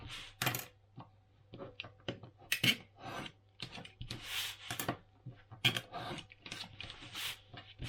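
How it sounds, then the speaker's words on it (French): Scissors snipping the corners of cardstock for an advent calendar papercraft, a series of short, sharp, close cuts and paper rustles in an irregular rhythm, no talk. "on va couper les coins pour faire 2 beaux coins"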